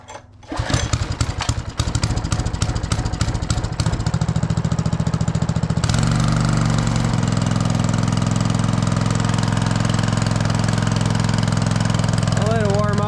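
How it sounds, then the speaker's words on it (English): A Briggs & Stratton 5.5 HP Intek engine on a log splitter is pulled over in the cold, sputters and catches, then settles into a loud, steady idle that runs on alone. "I'll see if it'll fire up now that it's out in the cold."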